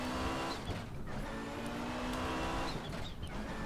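An Audi 90 Quattro IMSA GTO race car in Raceroom drones at steady high revs, its engine tone dipping briefly at gear shifts amid a continuous loud roar.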